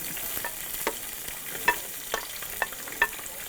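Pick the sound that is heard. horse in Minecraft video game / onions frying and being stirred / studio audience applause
onions frying and being stirred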